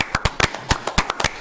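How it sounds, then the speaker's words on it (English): Brief scattered hand claps from a small group at a commission meeting, a dozen or so uneven, close claps in a quick irregular rhythm with no talk over them. "I really think he deserves applause"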